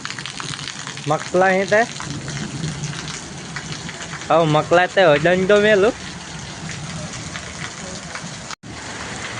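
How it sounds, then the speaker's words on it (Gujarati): Steady rain pours down in a broad, constant hiss, with no distinct thunder standing out. People talk over it twice. "વરસાદ ગાજે છે જોરદાર અને જોરદાર વરસાદ પડવાનો હોય એવું લાગે છે."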